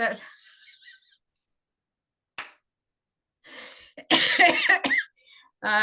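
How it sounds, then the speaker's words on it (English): A burst of coughing up close, followed by a few throat-clearing bursts and laughing breaths, separated by short silences. "I'm just like coughing off the side here"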